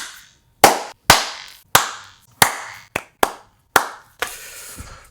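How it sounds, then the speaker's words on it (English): Eight sharp, separate hand claps ring out alone in a quiet room, close and loud with short decays, unevenly spaced over a few seconds, the last one smeared and longer. "Time for some claps."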